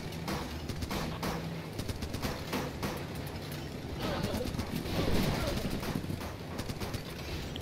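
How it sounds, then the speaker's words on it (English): Artillery strike in the game Running With Rifles, a dense barrage of explosions and gunfire rumbling continuously, swelling louder midway, with a voice partly heard over the din. "artillery strike"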